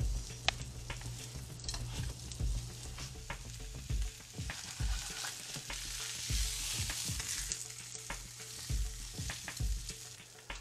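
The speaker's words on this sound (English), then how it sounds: "Now we'll heat up some butter so we can brown the beef shank." Beef shank browning in hot butter in a pan, a steady loud sizzle and crackle with occasional scraping and stirring knocks, continuous and close with no talk.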